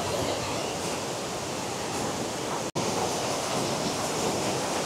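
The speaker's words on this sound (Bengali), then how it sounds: "পানির স্রোতটা দেখছেন, মারাত্মক।" Kuang Si Waterfall in Laos roars with a dense, unbroken rush of falling water, loud and close, with a brief dropout midway and no speech.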